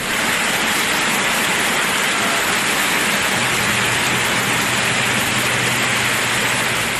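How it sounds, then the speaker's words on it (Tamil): Heavy rain pouring across towns in Tamil Nadu, a dense, steady hiss of water hitting surfaces that stays loud and unbroken throughout, with no voices. "பல்வேறு பகுதிகளில் பரவலாக மழை பெய்தது"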